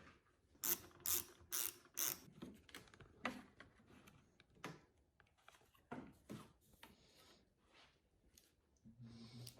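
Ratchet wrench working bolts loose during a coilover install on a Ford Focus ST: several quick bursts of clicking near the start, then scattered softer clicks and light handling noises, close and fairly quiet.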